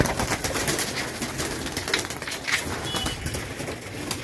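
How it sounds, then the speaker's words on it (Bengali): A large flock of pigeons released from a loft at a pigeon farm coos and stirs together in a dense, continuous wash of bird sound, close by and steady throughout. "সব পায়রা বেরোচ্ছে এখন"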